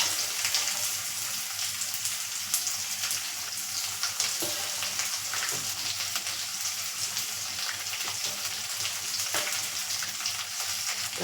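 Onions frying in a pan with cashews, a dense steady sizzle with faint crackles throughout, close and fairly loud, no voices.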